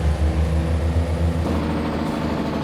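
A heavy truck in Farming Simulator 22 rumbles with a low, steady engine drone, then the air brakes release with a hissing burst partway through. The sound is loud and close, and no one speaks.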